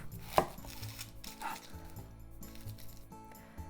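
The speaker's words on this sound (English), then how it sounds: "so onion, let's mince it. Cut the top off." A knife chops the top off an onion on a board, giving one sharp close thud followed by a quieter knock, alone over faint room hum.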